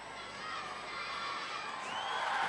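Crowd in the arena at a 1995 UK Gladiators heat, a steady broad roar of cheering and shouting that swells slightly toward the end, with no clear speech over it.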